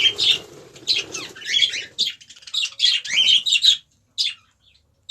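Budgerigars in a breeding cage with new chicks chirp in quick bright bursts while wings flutter and flap nearby, the calls coming in clusters with short silent gaps and no talking.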